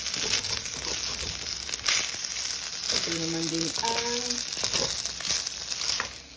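Garlic and oil sizzle steadily in a pan while being stirred, with crinkling, scraping textures and a few brief tonal clinks partway through, close and moderately loud throughout.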